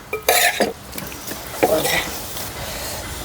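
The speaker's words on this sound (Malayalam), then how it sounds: "ഇനി നമ്മുടെ ഇറച്ചി ഇളക്കാം, ഇളക്കിയിട്ട് എടുക്കാം." Beef curry being stirred in a pot at home, with a few close scraping clatters of a spoon against the metal early on and a softer scrape later, under low room noise.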